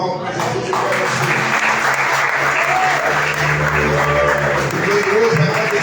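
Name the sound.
congregation applause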